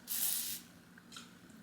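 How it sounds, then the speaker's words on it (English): OGX heat protectant sprayed onto hair: one strong, close hissing burst of about half a second, then a fainter short puff a moment later. "I literally use that just because of the spray,"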